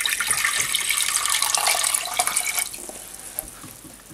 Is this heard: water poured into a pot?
yes